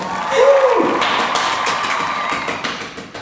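Applause and cheering from a crowd at a sports club's annual athletes' awards ceremony, a loud burst that carries on steadily for a few seconds with scattered whoops.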